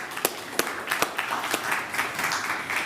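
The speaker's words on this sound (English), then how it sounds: "a big round of applause for our new composition of the jury" Audience applause at a startup pitch demo day, welcoming a newly announced jury panel; a dense, steady patter of many hands clapping with a few sharper individual claps standing out, sustained throughout.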